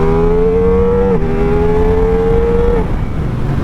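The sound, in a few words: Ducati XDiavel motorcycle accelerating in sport mode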